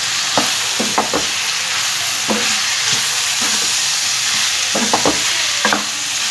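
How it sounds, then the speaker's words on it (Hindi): Ground coriander masala roasting in a pan for a dhaba-style mixed vegetable karahi, a steady bright sizzle broken by repeated scraping strokes of a spoon through the spice, close and continuous with no talk. "धनिया पिसा हुआ पाउडर 2 चमचे डाल दिया मैंने इसमें। इसको मैं थोड़ा सा भूनूंगी।"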